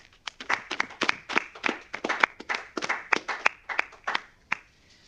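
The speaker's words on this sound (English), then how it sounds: "can we have one more round of applause for AFRL's 2020 Early Career Award recipients?" Audience at an Air Force Research Laboratory award ceremony gives a round of applause: scattered, distinct handclaps from a modest crowd that thin out and fade to silence.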